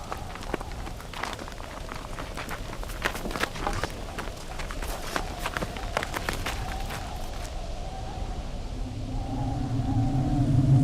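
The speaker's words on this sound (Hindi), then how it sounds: "तूफान है, हमें कहीं पनाह लेनी चाहिए।" An approaching storm brings a patter of rain-like hits, then a low roar that swells and grows louder toward the end.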